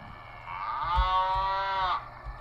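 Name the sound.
person imitating a cow mooing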